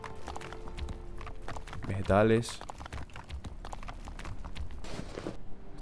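Quick running footsteps thud in a steady rhythm in the medieval survival game Siege Survival: Gloria Victis, moderately close, while someone speaks a short word over them.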